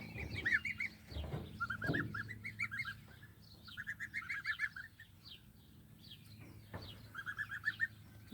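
Young goslings in a chicken tractor on grass give repeated quick bursts of honking calls in short clustered series, moderately close with quiet gaps between.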